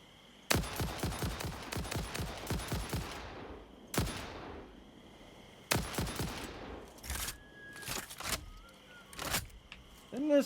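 Rifle gunfire in the video game Satisfactory, heard close: a rapid burst of about a dozen sharp shots, a single shot, then another quick burst and a few more scattered cracks, each with a short decaying tail.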